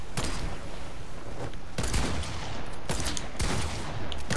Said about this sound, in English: I sniped you through your legs.